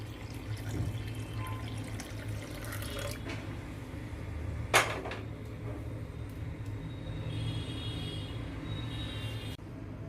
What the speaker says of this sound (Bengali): তো এখানে আমি প্রথমে সুজিটাকে ধুয়ে ফেলবো।